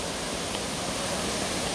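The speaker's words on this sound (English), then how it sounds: "I'm going down here to the river, to the gorge." Continuous rushing roar of a river in Takachiho Gorge, Kyushu, Japan, dense and unbroken like churning whitewater, steady throughout without any voices.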